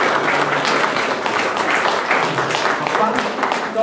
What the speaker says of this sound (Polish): Także wielkie brawa dla...